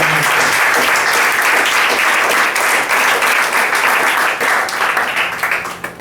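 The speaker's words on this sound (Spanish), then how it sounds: "Ese es un aplauso a ustedes" A church congregation applauds with a loud, sustained burst of clapping that carries on throughout and thins slightly near the end.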